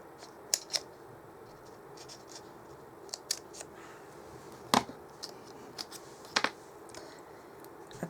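Non-stick scissors snip through Stampin' Up dimensionals for a paper-crafting card project: a scattering of short, crisp cuts, some close together, others spaced apart, in a quiet room with no talking.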